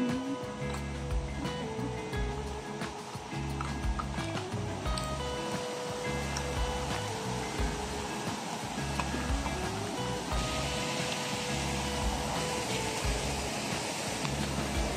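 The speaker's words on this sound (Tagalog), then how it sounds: "Naririnig na namin ngayon yung lagaslas ng tubig mula sa unang falls dito." Rushing water from Bega Falls in Agusan del Sur pours in a dense, continuous roar that fills the whole stretch, steady and fairly distant, with no talk over it.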